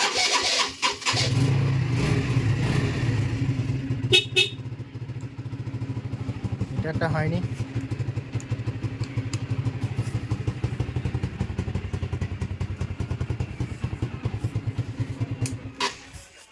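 A motorcycle engine cranks and catches, then idles with a steady low throb for several seconds before cutting off; a voice speaks briefly at the start.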